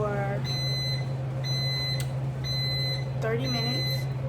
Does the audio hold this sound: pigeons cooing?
no